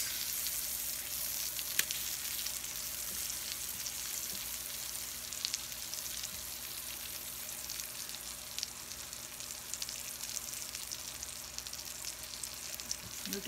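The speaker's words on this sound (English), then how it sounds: "Look at those onions grilling" Onions sizzle steadily on a home grill alongside salmon, shrimp and asparagus, a continuous close crackling hiss with small pops throughout and no talking.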